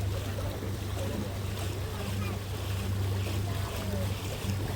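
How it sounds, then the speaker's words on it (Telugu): On a pontoon boat ride across Lake Monona, water rushes and sloshes steadily against the hull under a constant low motor drone and wind noise. "ఆ వాటర్ సౌండ్ వింటూ ఉంటే ప్రాణం జివ్వమంటూ ఉంది."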